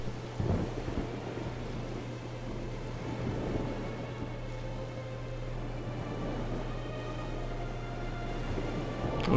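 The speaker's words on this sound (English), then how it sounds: "Oh shit, a storm." Thunderstorm in the video game Syberia 2: a low continuous rumble of thunder under steady rain hiss, with a steady low hum running throughout, moderately quiet.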